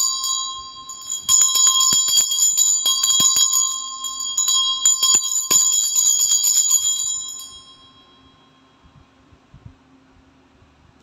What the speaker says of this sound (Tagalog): Medyo magka-cleansing lang po ako using Tibetan Bell. So, medyo maingay po ito.